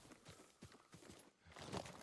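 Horse hooves in the Ghost of Tsushima video game, faint rhythmic clip-clop steps at a steady trot.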